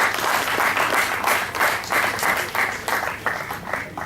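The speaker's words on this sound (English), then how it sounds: "Ladies and gentlemen, round of applause." A crowd applauds, dense clapping in surging waves that rise and dip repeatedly without pause.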